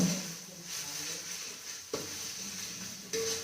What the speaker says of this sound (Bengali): মশলা কষানো চলছে এখন